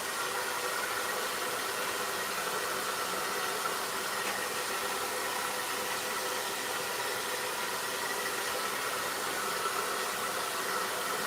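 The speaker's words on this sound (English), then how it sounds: "Blow drying this all the way." A hair dryer blows steadily and continuously while a barber dries a client's hair in a barbershop, a constant broadband whoosh with no talk.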